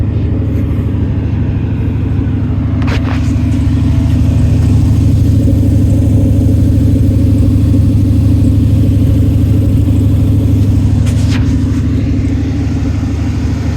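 An LS-swapped OBS Chevy truck runs steadily close by, its engine droning loudly and evenly throughout with a couple of brief blips of throttle, no voices over it.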